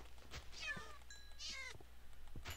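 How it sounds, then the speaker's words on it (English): Cats meowing in a Minecraft modpack, several drawn-out rising and falling meows in quick succession over a steady low background hum, moderately loud and close. "I'm sorry if you love cats, but too much meowing."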